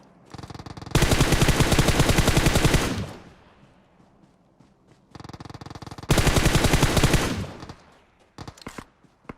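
Automatic gunfire in PUBG Mobile rips out in two long, loud, rapid bursts a few seconds apart, each tailing off into a short echo, with a few scattered faint shots after.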